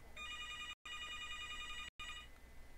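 A telephone rings in the Roblox video game: a bright electronic trill that sounds continuously for most of the short stretch, with two brief silent gaps, and no one speaks.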